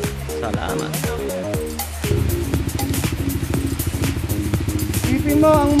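A dirt bike engine on a trail revs and putters in uneven bursts, growing louder and busier after the first two seconds, with people calling out instructions over the motor.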